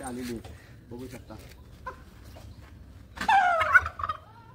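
A man imitates a turkey's gobble with his voice, and a nearby turkey answers with a loud, close, warbling gobble burst toward the end.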